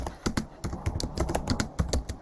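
Rapid keystrokes clatter on a computer keyboard up close, in an irregular burst of sharp clicks with no voices.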